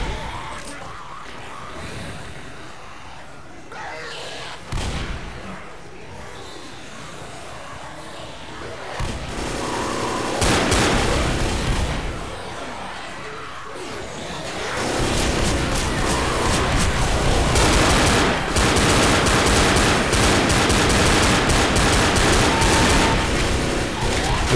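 Gunfire in Left 4 Dead during a barn defence: scattered shots and bursts at first, building after about fifteen seconds into a loud, dense, nearly continuous fusillade of automatic fire.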